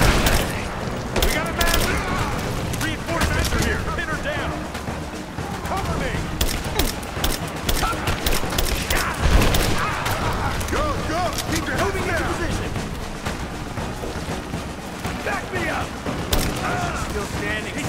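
A Rise of the Tomb Raider firefight fills the clip with dense bursts of automatic gunfire, sharp single shots and a heavy boom, with combat voices shouting over the constant shooting.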